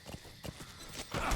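Horse hooves clip-clopping in Metal Gear Solid V, a few distinct hoof strikes at an uneven walking pace, fairly close, followed by a louder burst of noise at the end.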